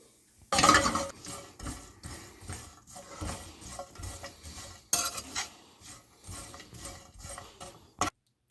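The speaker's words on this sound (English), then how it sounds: "Now add walnut and coconut and roast it for another minute." A spoon scrapes and stirs walnuts, coconut and poppy seeds roasting in a pan, giving irregular clinks and scrapes, with a couple of sharper knocks against the metal.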